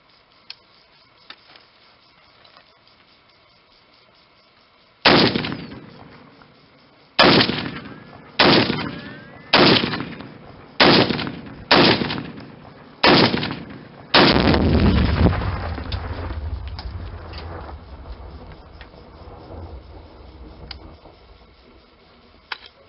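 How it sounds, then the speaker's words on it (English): Rifle shots ring out at a pumpkin packed with four pounds of tannerite outdoors: seven loud, sharp cracks spaced about a second apart, then a heavy blast whose rumble rolls on and slowly fades. "I have no clue why it took so many shots"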